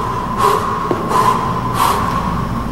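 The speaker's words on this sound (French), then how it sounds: "Là, je l'ai fait rapide, beaucoup de respiration." Rapid, heavy breathing during a CrossFit workout: three loud, close, forceful breaths in an even rhythm with no talking.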